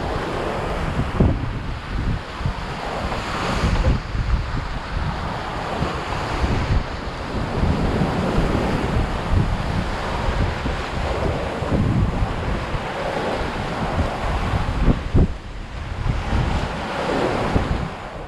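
Steady roar of wind and Atlantic waves rushing past a small sailboat under way at sea, constant and loud with surging swells and buffeting wind noise on the microphone, no voices.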